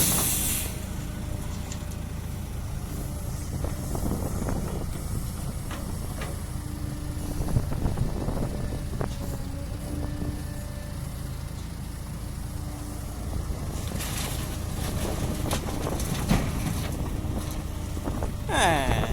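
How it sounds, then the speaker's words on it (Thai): Strong wind buffets the microphone outdoors while a Kobelco SK200 excavator loads dirt into a large six-wheel dump truck. Low rumbling gusts and hiss run throughout, with brief bursts of clanks and scraping from the work. "ลมจะแรงไปไหนเนี่ย"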